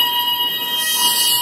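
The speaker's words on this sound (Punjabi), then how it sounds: "ਸਾਇਰਨ ਸੁਣ ਰਹੇ ਹੋ ਤੁਸੀਂ?" A hotel fire alarm siren sounds in Birmingham with a loud, continuous electronic tone, steady and piercing throughout, with no talk over it.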